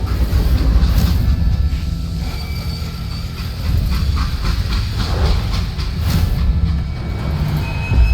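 A freight train rumbles along in the Western shooter Call of Juarez Gunslinger, with loud continuous rolling noise and rattling wagons, hiss and occasional metallic squeals throughout.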